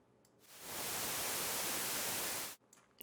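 A synthesizer puts out white noise in one loud, steady burst of broadband hiss that switches on sharply, holds for about two seconds, then cuts off abruptly.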